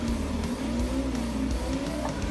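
A BMW E38 740i engine drones and revs while drifting, a loud continuous roar with rising and falling pitch throughout, no talking.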